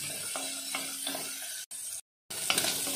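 Cubes of meat fry in a pan, giving a close, crackling sizzle with a faint regular pulsing, broken briefly by two short gaps of silence.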